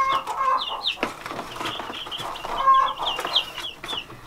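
Calm backyard chickens clucking steadily, several birds close by with repeated soft clucks and higher squawky calls overlapping throughout, no talking.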